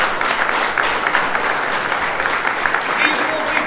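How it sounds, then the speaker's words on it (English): Sustained crowd applause at a firehouse grand opening in Lawrenceville, dense and even clapping from many people that holds at a steady, fairly loud level throughout. "which I think should deserve a round of applause for the Kreger"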